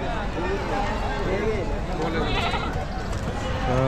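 Goats and sheep bleat at a busy Osmanabadi goat market in Chakan, Maharashtra, with does and their one-to-six-week-old kids nearby; the calls come in and out under steady crowd chatter and nearby talking.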